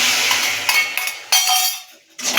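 A spoon stirs a milk and grated coconut mixture in a metal pan, loud close scraping and clinking strokes in uneven bursts with short pauses between.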